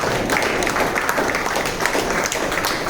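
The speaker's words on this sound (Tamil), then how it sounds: "எல்லாரும் புரிஞ்சு கைதட்டுறீங்க." An audience applauds at a talk, a loud, close, continuous patter of many hands clapping with fast irregular strikes that hold steady throughout.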